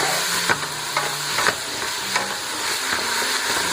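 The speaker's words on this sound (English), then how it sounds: "green bell pepper and a red bell pepper. Orange in my case. Saute this babies in here." Green and orange bell peppers sautéing in a pot, a steady close sizzle with a few periodic scrapes and knocks of a spoon stirring them.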